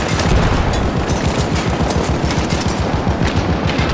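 Sustained rapid turret gunfire in the video game Syndicate, a loud, dense automatic burst with booming impacts that runs the whole time without pause, no voices over it.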